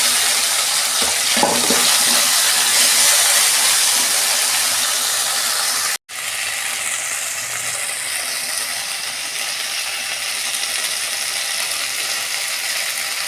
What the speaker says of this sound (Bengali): ওই তেলে আমি ঢ্যাঁড়সগুলো একটু ভেজে নিই মশলা মাখানো